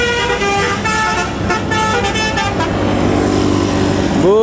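A loud telolet musical bus horn on a double-decker bus blares a rapid musical sequence of repeated tooting notes up close, followed by engine rumble and a rising horn blast.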